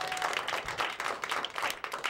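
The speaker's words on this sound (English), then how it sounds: "Can we have a round of applause for the comedian, Mr. Keith Fitz?" A late-night show audience applauds a comedian, a brief wash of clapping hands that stays fairly even and somewhat distant, with no talk over it.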